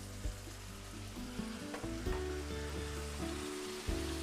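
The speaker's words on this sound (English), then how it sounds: "And now I'm going to add a half a cup of apple cider vinegar that's been whisked with 2 teaspoons of Dijon mustard" Apple cider vinegar whisked with Dijon mustard hitting a hot pan for warm German potato salad, a dense continuous sizzle with faint bumps and stirring, close up and without voices.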